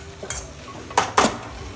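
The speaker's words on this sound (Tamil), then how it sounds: "இப்போ நல்லா மிக்ஸ் பண்ணிவிடுவோம்." A spoon stirs rice in a hot pot for cauliflower bajji chili biryani, giving three close, bright metallic scrapes and clinks with a quiet, faint sizzle underneath.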